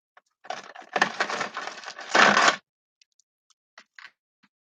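Seashells tossed into a container, a loud crunching rattle and clatter for about two seconds, followed by a few faint scattered clicks.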